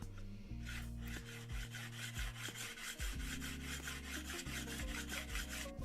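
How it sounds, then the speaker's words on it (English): Backs of bargain Libraton woodworking chisels are flattened on a diamond sharpening plate, 400 grit then finer, in a steady rhythmic rasping scrape. The strokes come back and forth at an even pace, close and clear, with no talking. "So to start off with, I'm going to be flattening the backs of these chisels."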